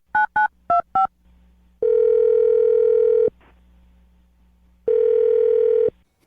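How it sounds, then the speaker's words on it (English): A telephone call being placed: four short touch-tone beeps in quick succession, then two long, loud ringback tones separated by a pause, with no talking. "I'm going to dial the phone number"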